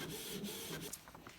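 A Canon PIXMA TS202 inkjet printer running a print job, a steady close mechanical whirring and rubbing with small clicks and shifts near the end, no voices.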